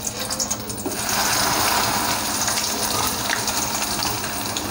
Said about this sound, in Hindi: अब इसको हम तेल में पहले फ्राई करेंगे। ये तेल हमारा गरम है इधर।